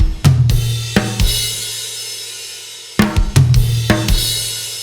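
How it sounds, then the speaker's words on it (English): Drum flams moving between snare and toms in a setup before a big tom run down the kit, from the ending of a song: two loud clusters of sharp doubled hits with ringing toms decaying between them, no voices. "we are flamming between the snare and the toms"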